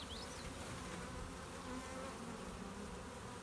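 A swarm of bees shaken from a branch gives off a dense, steady, close buzzing that holds at an even loudness throughout, with no voices over it.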